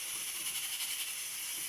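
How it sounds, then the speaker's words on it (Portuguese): A pressure cooker hisses in a home kitchen, a steady high-pitched steam hiss continuing evenly at moderate volume with no other sound. "O barulho ali é da panela de pressão"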